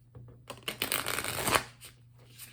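A brand new Light Seers Tarot card deck shuffled by hand, a brief rapid riffling flutter of cards rising and fading over a couple of seconds, close and clear.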